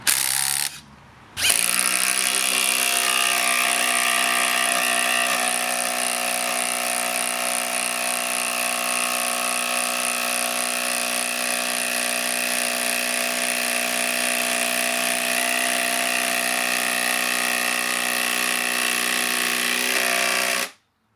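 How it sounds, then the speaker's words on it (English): A Makita XGT 40V impact driver gives a brief burst, pauses, then runs continuously for about nineteen seconds with a loud, steady, rattling mechanical whine before stopping. "And finally, the impact driver."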